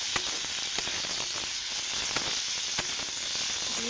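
Onion and green chilli frying in oil with salt, cumin powder and turmeric as the base for a fish curry; a steady, loud sizzle hisses throughout with occasional sharp pops and crackles.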